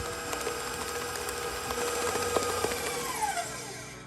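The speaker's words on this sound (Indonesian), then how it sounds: "Kalau di mixer ini saya pakai speed 7 sampai 8 ya." An electric mixer running at speed 7 to 8 while mixing cream cheese butter cake batter, a steady mid-level motor whir with light rattles and a slight pitch drift, no talking.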